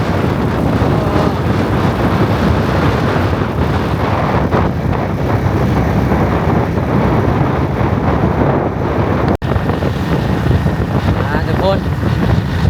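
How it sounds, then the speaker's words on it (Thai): Dry wind blows hard across a microphone outdoors in a large Vietnamese city, a loud, continuous rushing buffet with gusty swells and a brief dropout, with faint voices underneath. "นี่ประเทศเวียดนามเนาะมีลมแห้งในตอนนี้ทุกคนเนาะลมพัดแห้ง"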